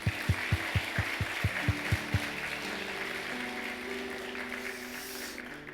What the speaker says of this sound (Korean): 박수 한번 더 하겠습니다